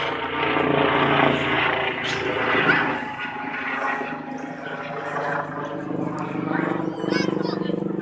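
A helicopter flying overhead, its rotor drone humming and swelling steadily in the background while a person talks over it.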